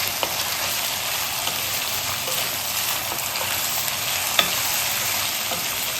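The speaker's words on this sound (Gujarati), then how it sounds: "આપણે બધી સામગ્રીને મિક્સ કરી લઈશું." Ingredients for Gujarati kadhi pulao are stirred together in a hot pan, producing a steady close sizzle with soft scraping from the spoon that stays even throughout.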